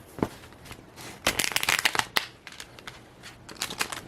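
Yuletide Tarot cards are shuffled up close in irregular papery riffles and flicks, with sharper snapping bursts in the middle and near the end and quieter rustling between, no talk.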